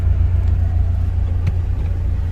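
A 2016 Ford Focus RS engine runs steadily in normal drive mode, giving a loud, continuous low rumble with no pops or crackles, heard close up with faint clicks on top.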